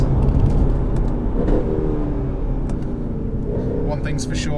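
A 2013 Mercedes C63 engine roars steadily as it accelerates, a loud, low rumbling growl throughout with a higher whine rising near the end.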